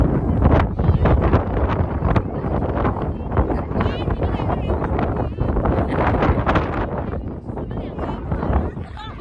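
Strong gusts blow across an open lakeside viewpoint at Waterton, buffeting the microphone in a loud, continuous roar with people talking over it.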